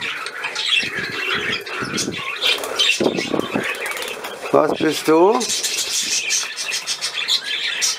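A male budgerigar squawks and chirps up close, with bursts of wing flapping and rustling, while a person speaks briefly to the bird.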